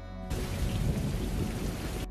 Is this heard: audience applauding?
no